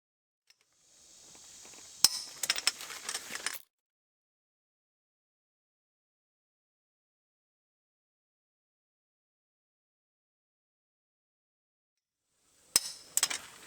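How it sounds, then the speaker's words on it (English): A torque wrench on the lug nuts of a 2005-2009 Subaru Outback front wheel gives a short run of sharp metallic clicks and ratcheting, then long silence, then a final brief cluster of clicks. "We'll set it to 90 foot-pounds of torque and torque the lug nuts."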